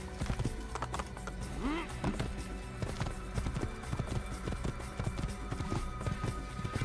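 Horse hooves gallop in Assassin's Creed, a quick, fairly faint clip-clop rhythm running throughout, with a short whinny-like cry early on.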